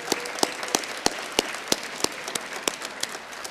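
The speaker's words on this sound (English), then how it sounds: "let's applaud our students one more time for this achievement" An audience at a Governor's Award for Excellence in Academics ceremony claps for students, with sharp, evenly spaced hand claps repeating about three times a second over a soft crowd background.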